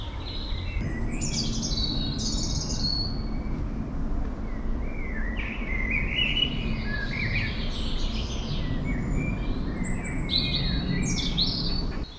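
Birds sing in a garden in a Devon town, several chirping and warbling calls overlapping continuously over a steady low background hum, moderately distant.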